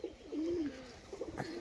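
Pigeons coo in a short, low warbling phrase that rises and falls, close and clear, with a second softer coo near the end; the birds are kept by a fancier with show pigeons.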